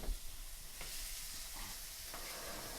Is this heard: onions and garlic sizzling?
yes